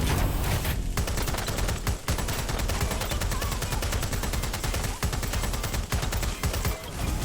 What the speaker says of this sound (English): Oh no, they're shooting back.